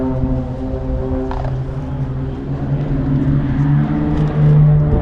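Blades aerobatic team aircraft flying a loop and split at an air display at Belton House proms 2012: a loud, sustained propeller-engine drone with a steady hum that swells slightly toward the end.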